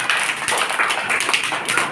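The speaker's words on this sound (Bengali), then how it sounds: "সামিয়াকে একটা জোরে হাততালি দিব আমরা।" A class of young children clapping loudly together for a classmate in a pre-primary lesson, a brisk, steady round of applause lasting about two seconds, with no talk over it.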